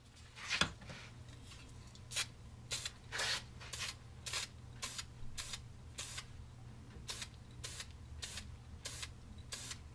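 Bursts of paint mist sprayed onto a Bufflehead duck decoy, a dozen or so short hissing puffs in an uneven rhythm over a faint low hum, close and fairly quiet, no talking.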